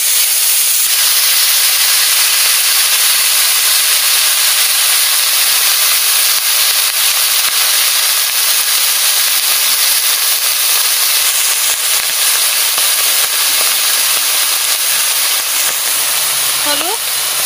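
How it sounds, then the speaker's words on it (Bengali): Mustard seeds sizzle in hot oil in a home kitchen, a steady loud hiss that fills the whole stretch without a break, with no talk over it. "তেল দিয়ে দিচ্ছি, সর্ষে দিয়ে দিচ্ছি, সর্ষে পোড়া পোড়া হয়ে গেছে"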